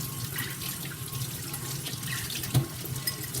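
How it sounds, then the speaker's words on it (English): A canning jar is rinsed in hot soapy water at a kitchen sink. Running tap water splashes steadily with small clinks and drips, close by and fairly quiet. "going to rinse it, hot soapy water, placing it upside down"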